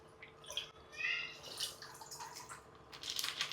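Water poured into a half-filled container at home and stirred together, giving quiet splashing, trickling and dripping sounds that swell and settle, close by and fairly soft.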